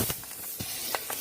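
A heated snow spray can, set in front of a gas tin, leaks gas from its opened top valve in short, faint hissing spurts separated by brief gaps.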